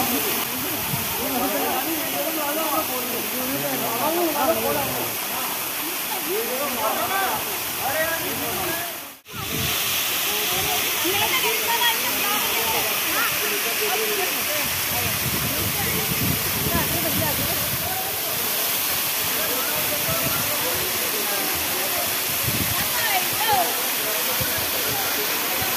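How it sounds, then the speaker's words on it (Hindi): A jungle waterfall near Ajmer Sharif pours steadily, making a continuous, full rushing roar for the whole stretch with faint voices mixed in. "आप देख सकते हैं काफ़ी खूबसूरत तरीके से ये झरना जो है बहता हुआ देखने को मिल रहा है।"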